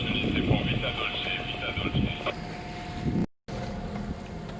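A boat engine drones steadily close by while motoring near Saint-Laurent port, Fréjus, a low motor hum with a faint whine, running continuously under the wind.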